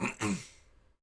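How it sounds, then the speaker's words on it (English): A short, breathy cough in two quick bursts, close up, fading into silence. "That was a cough."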